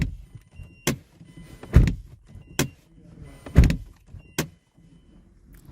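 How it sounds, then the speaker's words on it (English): Door locks on a 2007–2011 Mazda CX7 actuating, giving five sharp mechanical clunks spaced about a second apart, close and loud, with soft low rumbling between them. "Door supposed to lock and unlock."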